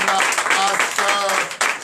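A church congregation at a night deliverance service in Comè, Benin, bursts into acclaim, with clapping mixed with loud shouting and voices that rise and fall in quick waves.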